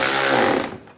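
Bolts being tightened on the front lower grille of a 2013-2016 Dodge Dart with a power tool: a loud, steady buzzing whir for about two thirds of a second, then a quick drop to quiet.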